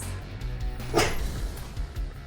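A dog gives a single sharp bark near the middle, close and fairly loud, surrounded by low rumbling room noise.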